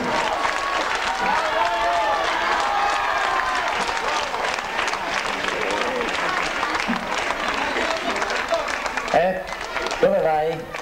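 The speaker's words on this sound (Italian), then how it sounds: "a raccogliere l'applauso del pubblico" Sustained applause from a concert audience at a live Italian pop performance, loud and dense clapping with crowd noise filling the whole stretch, then thinning near the end as a voice speaks.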